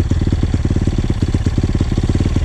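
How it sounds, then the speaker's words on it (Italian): A motorcycle engine idles steadily after carburetor tuning, a close, even, rapid low putter with a light mechanical clatter and no talk. "A posto, abbiamo carburato la moto."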